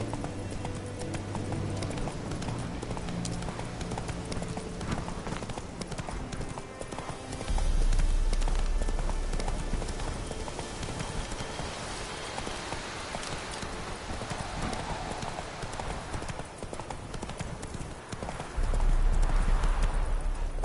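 A horse gallops in The Witcher 3: Wild Hunt, steady rhythmic hoofbeats pounding continuously over a low ambient game backdrop, with heavier thudding bursts partway through and near the end.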